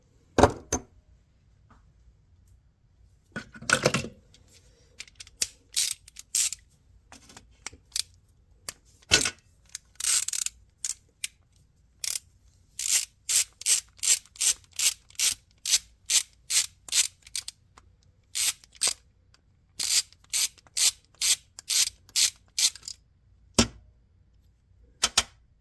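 Sharp, rapid tool clicks and ratcheting snaps come in irregular bursts, then settle into a quick regular rhythm while the main jet is worked out of a GasGas TXT280 trials bike carburetor. The sound is close and there is no talk.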